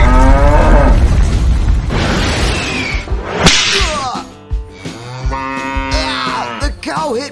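Cow lowing loudly during hand milking on a farm, with sharp whip-like slaps and swishing bursts mixed into long, harmonic moos that rise and fall across the clip.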